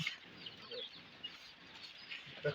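Chicks on a poultry farm give faint, scattered peeps and soft clucks over a steady background hum. No one speaks.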